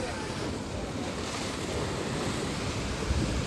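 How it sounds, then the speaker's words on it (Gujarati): Sea waves surging against the shore at Dwarka, a steady loud wash of surf with wind buffeting the microphone, continuous and close with no break. "જો આ મોજું ફૂલ વીંટોળિયા સાથે જોઈ લો મિત્રો"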